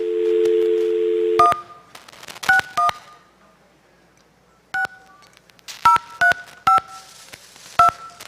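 A telephone dial tone cuts off, then a series of sharp touch-tone DTMF key beeps follows in irregular single presses and short clusters, loud and close against a quiet line hiss.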